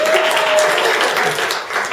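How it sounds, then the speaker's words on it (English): Audience applause at a sparkling wine and Prosecco summit, a steady wash of many hands clapping through the whole stretch, dense and fairly loud, with some crowd voices mixed in. "give them a round of applause"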